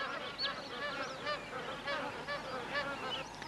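Magpie geese, also called pied geese, honk in a busy, overlapping chorus while feeding in northern Australian wetlands, with many loud calls close together and no talk over them.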